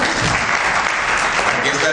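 Dense, steady applause from a festival audience fills the space, loud and continuous throughout with no pauses, a broad wash of many hands clapping together.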